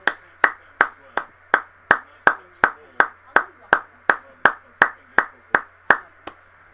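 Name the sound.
stadium crowd's minute's applause at a football match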